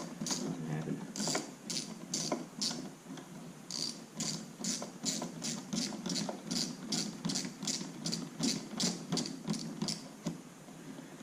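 A hand ratchet tightens a clamp on a RotoFab intake in a Chevy SS engine bay, clicking in rapid repeated strokes with a steady rhythm, close and fairly quiet, with no voices.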